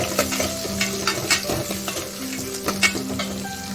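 Chopped onions sizzle and crackle in a hot pan while a spoon stirs them, with steady scraping and occasional clinks against the metal, close up and with no talking.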